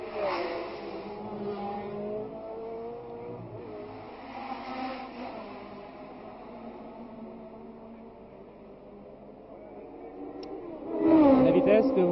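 Formula 1 race cars at the 1967 Monaco Grand Prix, with an engine note that rises and falls steadily throughout, then a louder roar near the end as a car passes close.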